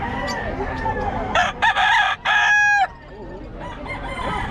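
A gamecock crows loudly and close at a Filipino cockfighting bidding, one long drawn-out crow in the middle, with people talking before and after.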